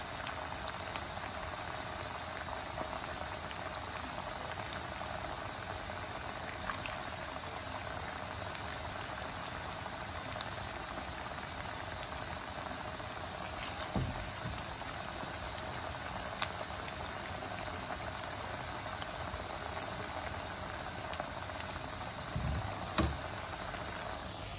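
Potato fries sizzle as they deep-fry in hot oil, a steady, even hiss with tiny scattered pops and crackles. The sound is quiet and continuous with no talk.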